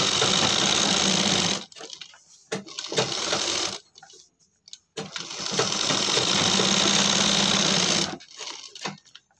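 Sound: sewing machine stitching cloth for homemade slippers

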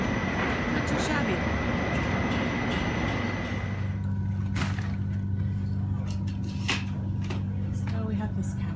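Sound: train interior while riding

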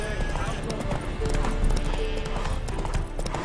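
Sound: horse Roach hooves and whinny, video game The Witcher 3

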